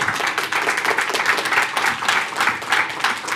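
An audience at a school board trustees meeting claps steadily throughout, a dense, loud burst of applause from a crowd in a meeting room.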